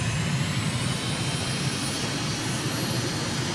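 A simulated aircraft engine at full throttle during a takeoff run in Microsoft Flight Simulator, a loud, steady, unbroken roar with a high whine on top, filling the whole stretch with no talk.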